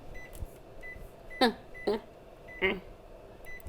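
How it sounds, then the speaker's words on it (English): A kitchen timer is set, giving three separate short electronic beeps spaced about half a second apart over soft background room noise. "So I'm just gonna put a kitchen timer on."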